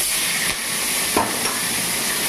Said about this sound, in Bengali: এটা মাছটা যেহেতু মাছের মাথাটা ভাজতে বসিয়ে দিলাম, চচ্চড়িতে দেব।